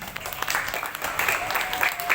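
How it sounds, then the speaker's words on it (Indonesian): Pupils and teachers applaud class 5A at an outdoor school flag ceremony, a moderately distant, scattered crowd of clapping with some voices mixed in. "Tepuk tangan untuk kelas 5A."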